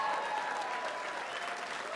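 A comedy club audience at Gotham Comedy claps in a brief, moderately quiet burst of applause that holds evenly for about two seconds.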